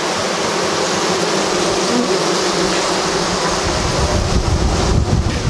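Honey bees swarm and buzz densely around a hive packed with comb, a loud, steady hum that fills the whole stretch without pause.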